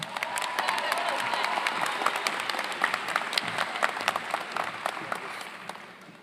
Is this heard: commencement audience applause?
yes